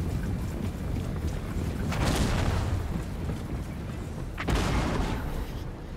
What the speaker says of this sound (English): Yeah, so the cannons are firing.